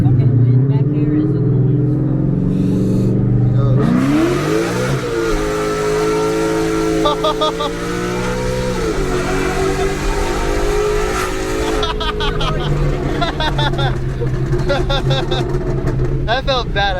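A car fitted with a ported 1320 intake accelerates hard through the gears, its engine note rising and shifting loud and close from inside the cabin, with wind noise throughout and people talking over it.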